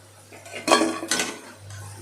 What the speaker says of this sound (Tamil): பாருங்கள் எவ்வளோ கிறிஸ்பியாக சவுண்டு வருது பார்த்தீங்களா எடுக்கும்போது